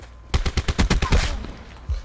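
A quick rattling string of gunfire in a video game, about eight sharp shots in rapid succession followed by one more isolated shot, loud and close with no talk.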